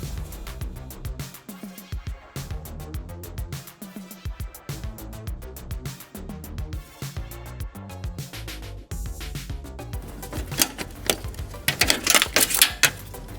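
A ratchet clicks rapidly while two 10 mm screws are backed out on a BMW M3 E36 during restoration, close and dry in quick bursts with short pauses between them.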